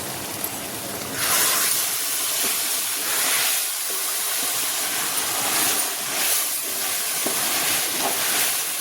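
A loud hiss erupts as marinated chicken goes into a hot pan, settling into continuous sizzling that rises and falls in waves with faint clinks.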